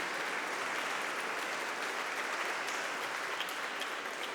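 Steady applause from a congregation thanking the musicians at a Sunday church service in Saint-Pierre, an even, sustained wash of many hands clapping throughout.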